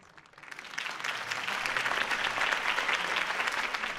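Crowd applause for Harvey Dent's campaign speech in the Batman Telltale Series video game, a dense sustained clapping that swells in after a brief quiet start and holds steady at moderate loudness.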